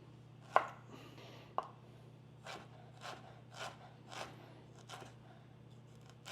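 A knife chops through ginger on a cutting board, cutting off its sides in a series of quiet, evenly spaced cuts, the first two sharper and louder than the rest, over a low background hum.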